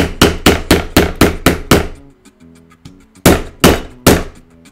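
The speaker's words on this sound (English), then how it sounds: "I'm just gonna hammer the crap out of this until it cuts" Hammer striking a cutting tool on a workpiece while making an Attack on Titan harness: a rapid run of six loud metallic blows, a brief pause with ringing, then three more heavy strikes.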